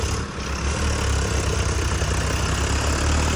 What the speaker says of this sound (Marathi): तर गाईज आता ट्रॅक्टर बोलवलंय आपण.